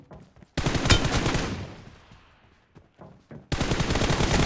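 Loud bursts of automatic gunfire in the battle royale game PUBG Mobile, one volley fading into a quieter stretch with scattered shots, then another sustained burst returning at full intensity.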